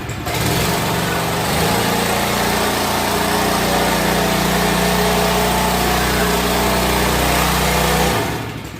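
A small engine on a brush cleaning machine used for scrubbing carpets and floors revs and holds at a loud, steady high-pitched whine for several seconds, then cuts off abruptly near the end.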